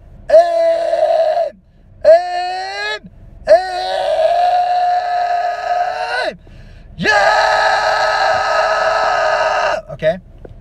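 A male vocal coach demonstrates fry screams, several sustained gritty, strained vocal bursts of varying length separated by short pauses, loud and close with no other sound.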